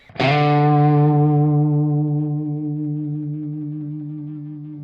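A single electric guitar note is plucked without a compressor pedal and rings out alone, sustaining clearly and slowly fading over several seconds.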